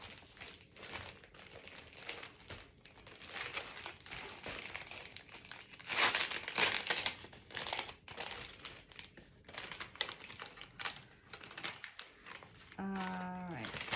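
Sheets of paper crumple, crinkle and rustle in bursts while someone searches through a paper collection for a fairy-wings craft; the handling is close and busy, loudest midway, with a brief voice near the end.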